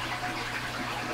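Cherry syrup juice poured into a measuring cup for a homemade New Year drink: a short, steady, close liquid pour with an even wash of sound and no voices.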